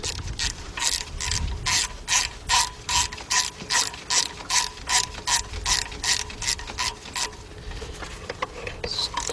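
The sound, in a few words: ratchet tightening intake manifold bolts on Chevy 3.4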